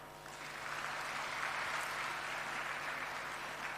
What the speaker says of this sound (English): Your parents deserve a biggest round of applause today.